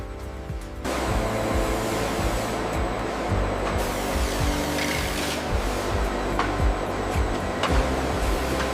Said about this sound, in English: The automated system directs powerful jets of water, thoroughly cleaning the horns